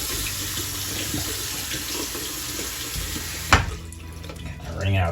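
Running tap water rinses glue seepage out of a Monster High doll's hair in a sink, a steady close splashing stream that cuts off abruptly partway through, with a voice talking over it.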